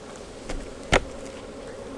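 Bees hum steadily around an opened hive during a colony split, a continuous low drone with a couple of short, louder bumps of handling noise and no talking.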